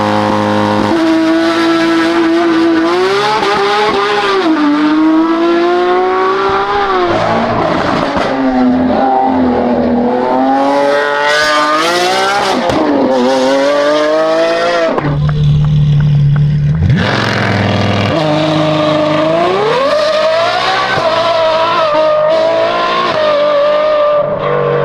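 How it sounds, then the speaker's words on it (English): A stock-exhaust supercar revs, then launches hard and accelerates away, its loud engine note rising and falling through gear changes over roughly twenty-five seconds, with a brief lull before it climbs again. "wasn't the most exciting rev up in a launch I've ever seen, but it was pretty cool once he started going"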